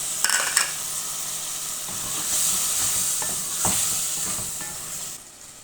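Potatoes tossed into a sizzling mix of cumin, coriander, red chilli, turmeric and salt in a pan, with an initial clatter followed by a continuous loud hiss and occasional stirring scrapes, close up.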